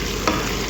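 Chicken pieces flipped in a hot pan, a steady close sizzle broken by a brief scrape of the turn, then frying on without any talking.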